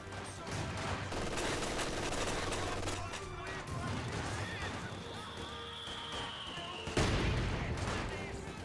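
Fire from an MG42 machine gun and mortars in the strategy game Company of Heroes 2, with rapid bursts and crashes layered in a dense battle mix and a sharp blast near the end, under a faint voice.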